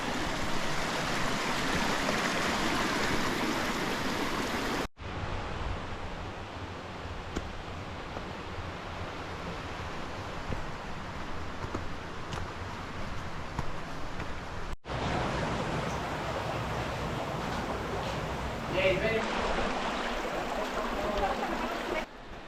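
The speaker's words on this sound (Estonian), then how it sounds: "Veekanal vana." Water running along an old man-made channel on La Palma, a continuous close rushing and gurgling flow with slight changes in texture, heard alone without talk.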